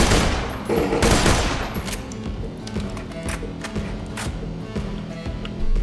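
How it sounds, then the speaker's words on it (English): A bullpup gun in Borderlands 2 fires in loud bursts, with a heavy volley at the start followed by quicker, lighter clusters of shots over busy game background noise. "So it should fire tri-bursts."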